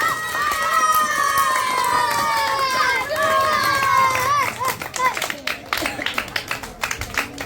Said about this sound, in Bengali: যারা গাছ পেয়েছে তাদের জন্য জোর করে হাততালি দাও